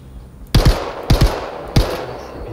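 A small pistol firing in Star Citizen during a raid: three sharp, close shots spaced about half a second apart, each with a quick double crack and short echo.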